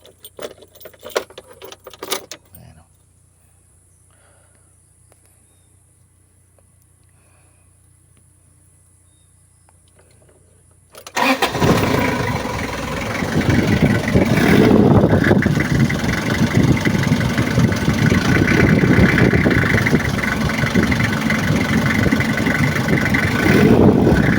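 Keys rattle briefly in the ignition, then after a quiet pause the Mazda Bongo's R2 diesel engine cranks and catches, settling into a loud, continuous rough idle close by, with no talking.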